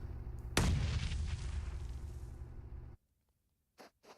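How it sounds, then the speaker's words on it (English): A grenade goes off in PUBG Mobile as one loud, sudden blast followed by a rolling rumble that lasts over two seconds, then cuts to near silence with a couple of faint taps. "Nade over the top towards KONINA Power."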